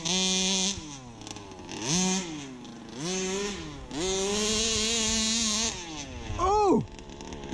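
A newly rebuilt motorcycle engine, smoking from the exhaust, runs close by with several rising and falling throttle revs and a buzzy, raspy tone, ending in one sharp blip.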